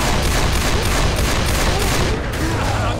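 Continuous heavy gunfire aimed at the Tank in Left 4 Dead 2, a dense, loud, unbroken barrage of overlapping shots with no pause.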